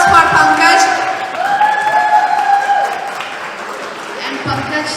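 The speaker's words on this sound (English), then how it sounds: "Can we have a huge round of applause for Pankaj?" An audience at a movie premiere applauding and cheering, a broad wash of clapping and whoops that fades gradually, with a voice speaking over it at the start.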